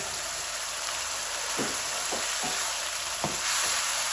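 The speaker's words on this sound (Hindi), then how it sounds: "अब यहाँ पे मैं अरबी डाल दूँगी इसके अंदर, साथ ही आलू ऐड कर देंगे।" Taro root and potato pieces frying in oil in a pan over high heat, a continuous soft sizzle with several light taps of a spoon stirring, fairly quiet and close.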